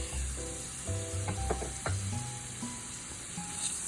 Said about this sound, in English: And now it's time to add that 1 chopped onion